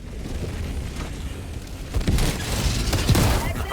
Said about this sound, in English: The explosion behind me flinched me out of my shot.